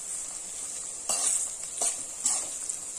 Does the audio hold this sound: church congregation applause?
no